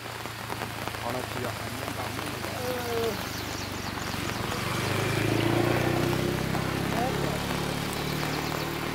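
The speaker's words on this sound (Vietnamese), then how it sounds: "Mưa to lắm các bạn ơi." A torrential downpour, the heaviest in years, roars as a dense, constant hiss that grows slightly louder midway, with faint voices and a low background drone beneath it.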